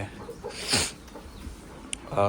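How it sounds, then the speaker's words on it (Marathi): Free-range desi village chickens cluck and call nearby on a goat-rearing farm, short scattered bursts mixed with rustling and someone talking in the background. "इकडे आहेत आमचे गावरान कोंबडे"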